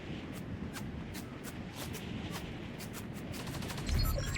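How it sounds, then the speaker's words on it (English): Rapid bursts of distant gunfire in Fortnite, a string of sharp evenly spaced shots over low rumbling game ambience, fairly faint with a louder thump near the end. "there's shots in Pleasant"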